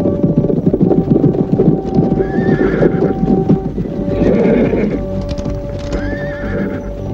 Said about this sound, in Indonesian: ada 10 orang naik kuda sedang menuju kemari